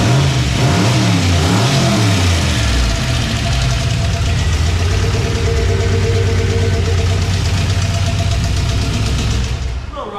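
A Honda Civic EG hatchback engine on a FuelTech ECU runs loudly up close, settling from uneven early revs into a rough, steady idle with a faint mechanical knock.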